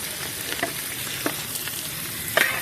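Onion, capsicum and green chili frying in hot oil while being stirred, a steady close sizzle broken by a few sharp scrapes and clinks of the stirring utensil against the pan, no voices.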